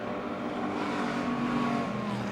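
Race cars roaring around Motordrome Speedway, a dense sustained engine drone as several cars run close together through a turn, loud and continuous with a slight pitch rise near the end.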